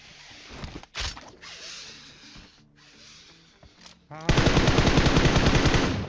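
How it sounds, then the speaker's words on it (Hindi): Gunfire in PUBG: scattered single shots and short bursts at first, then a loud, rapid automatic stream of fire that runs to the end. "देखते हैं अब कहाँ से फायर होता है"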